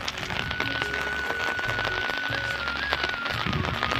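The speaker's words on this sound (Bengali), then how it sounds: "এদিকে প্রচুর বৃষ্টি হচ্ছে।" Heavy morning rain in Baishakh, a dense steady hiss of falling drops on surfaces with a faint tonal hum running underneath, constant and close, with no one speaking.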